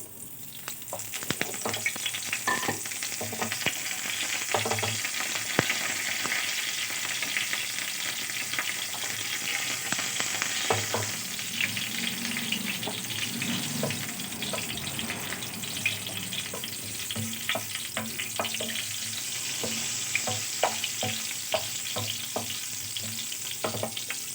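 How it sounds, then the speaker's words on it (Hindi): Curry leaves and round red chillies crackle in hot oil during a baghar, a loud, continuous close sizzle with scattered sharp pops and spatters lasting the whole stretch. "अच्छा जी, हमने इसका बघार देना है।"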